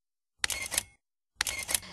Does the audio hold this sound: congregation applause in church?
no